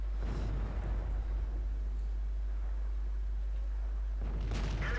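A tank gun in World of Tanks fires an APCR round during a Super Pershing battle, a loud low boom opening the clip and another blast near the end over a constant deep engine rumble.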